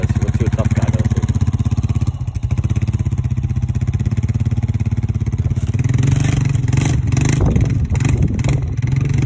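A Yamaha Blaster ATV engine runs loud and close, a rapid throbbing two-stroke putter that thickens and revs up toward the end, with no talking over it.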